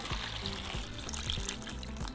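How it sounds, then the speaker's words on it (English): Water is poured into a pot over rinsed chiles, half an onion and two tomatillos for Sinaloa-style beef barbacoa, making a steady, close splashing rush that runs the whole time with a low tonal hum beneath it. "and we're going to cover them with water."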